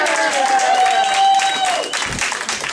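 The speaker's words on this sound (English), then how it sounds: "Big round of applause." A comedy show audience applauds and cheers as a comic is introduced, loud crowd clapping layered with a sustained whistle or whoop, then thinning out as someone begins to talk.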